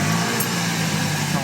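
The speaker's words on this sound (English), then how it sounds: "I am going to turn the engine on for this actually, because the engine in this car is nice and quiet." A quiet car engine idles with a low steady hum, close and even, with no revving, heard from the driver's seat.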